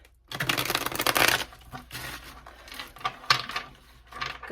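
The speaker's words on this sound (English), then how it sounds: "One more horrible shuffle." A deck of tarot cards being shuffled by hand, bursts of rapid riffling and flicking that start after a brief silence, come close and fairly loud, and stop and resume in uneven clusters.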